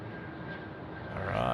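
Philippine Airlines jet touching down on the runway at Sydney Airport, a distant broad roar of engines swelling louder toward the end, heard faintly.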